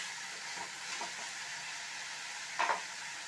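Chopped chow chow (chayote) pieces sauté in a pan for chutney. A steady, soft sizzle and hiss runs throughout, with a few light stirring scrapes and a brief louder clatter near the end, and no voices.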